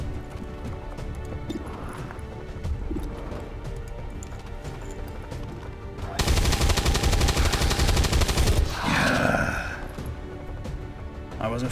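Soldiers firing in the XCOM 2 strategy game, a dense burst of gunfire rising sharply around the middle and running for a few seconds, with a busy game soundscape of music and effects before and after.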